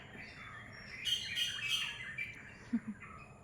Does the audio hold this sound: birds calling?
yes